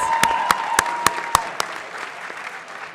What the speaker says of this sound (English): let's give the seniors a round of applause.